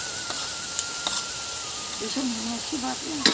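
Tomato with chilli powder, ginger and coriander paste frying in a pan, a soft steady sizzle with a few sharp utensil clicks and a voice talking over it near the end.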